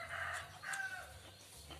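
A young rooster crows faintly in a short, strained call that rises and trails off, heard alone without talk.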